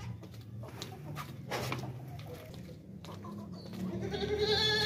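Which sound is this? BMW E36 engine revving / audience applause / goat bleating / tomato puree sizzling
goat bleating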